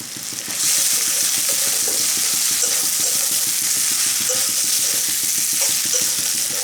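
Fried egg whites go into a sizzling masala for egg curry, with a loud, continuous frying hiss and quick repeated scraping taps of stirring throughout.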